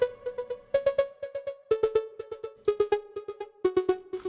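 A bright synth plays a quick, bouncy repeating melody with sharp percussive attacks, phrases restarting every second or so, with no voices; made in FL Studio 25.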